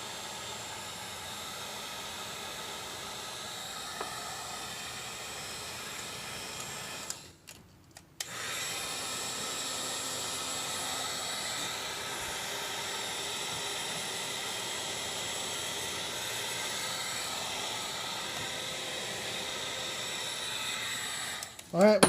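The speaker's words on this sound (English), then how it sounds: "you want to be careful with the heat gun so you don't burn yourself" A heat gun blows hot air to cure JB Weld on a turbo Civic blow-off valve install. The whoosh is steady and continuous, cuts out briefly near the start, then resumes.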